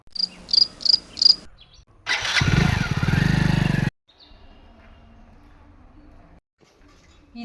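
A motorcycle engine bursts into a loud, rough rev for about two seconds after a few rhythmic cricket chirps, then cuts off abruptly into near quiet.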